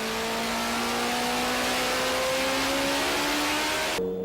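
A race car accelerates hard up through the gears, its loud engine note climbing steadily before an abrupt shift near the end, heard close and without any voices.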